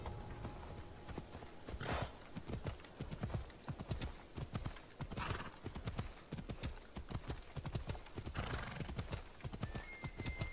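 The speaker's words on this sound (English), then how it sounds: "Bloody great horse." Horse hooves clip-clop at a steady trot in Assassin's Creed Odyssey, a fast, even rhythm of close, distinct thuds running throughout, with occasional breathy snorts over the hoofbeats.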